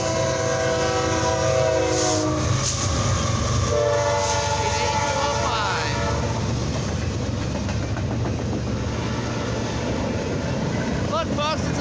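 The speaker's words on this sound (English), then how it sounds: "Look, folks, it's a BNSF Intermodals train." A westbound BNSF intermodal freight train passes on a rainy late afternoon, sounding loud horn blasts before its steady rolling rumble and wheel clatter take over, close by and continuous.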